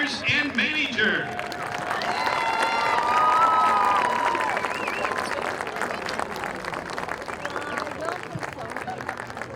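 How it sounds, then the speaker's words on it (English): Crowd applauding and cheering at a varsity high school football game during senior night recognition, a broad sustained wash of clapping with scattered shouts and whistles, swelling in the middle and continuing steadily throughout. "Let's give a round of applause for our senior football players and manager."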